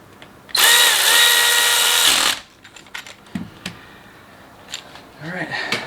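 Power tool drives and tightens bolts during a timing chain replacement on a Volkswagen Golf R, one loud steady whir of about a second and a half, followed by quieter clinks and shop handling noises.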